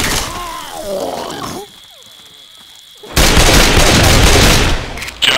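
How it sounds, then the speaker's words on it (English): Gunfire in Left 4 Dead 2 during the Swamp Fever campaign, with a loud, dense fusillade of close shots and blasts bursting in after quieter moments, while voices call out over the fighting. "Stop shooting each other."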